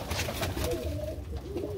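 Pigeons kept by a breeder for about twenty years cooing in a loft, soft low repeated coos over a steady murmur of birds close by, with no talking.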